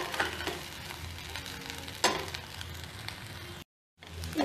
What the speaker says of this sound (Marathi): आता मंद विस्तवावरती भाजी अशीच मी शिजवून घेणार आहे